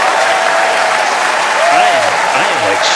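A crowd cheers and applauds a SpaceX Starship launch. Dense, loud clapping and cheering wash over the whole moment, with some whoops and raised voices in the mix.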